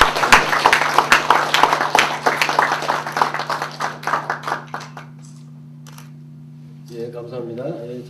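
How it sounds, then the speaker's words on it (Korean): Clapping at a signing ceremony, a cluster of sharp, close hand claps for about five seconds that tapers off, followed by near silence and then someone speaking briefly. "박수 부탁드리겠습니다."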